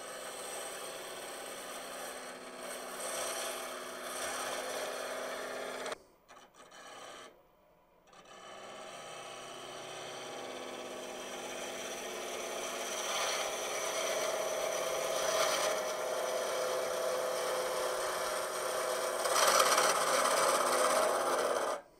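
A woodturning gouge cuts a segmented wooden box spinning on a lathe at about 1,000 rpm, producing a steady scraping rasp over the motor hum, with a short break as the tool lifts before cutting resumes.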